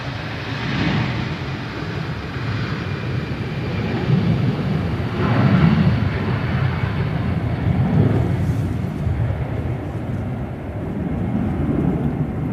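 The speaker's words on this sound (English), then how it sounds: "EasyJet A320s off to Belfast." An EasyJet Airbus A320 departs Manchester Airport for Belfast on a gusty day, a broad, rumbling jet roar swelling and fading at a distance with wind noise throughout.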